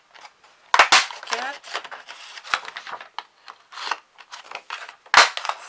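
Scissors cut through cards, giving several crisp snips and crunches close by, with short pauses between them while someone counts aloud.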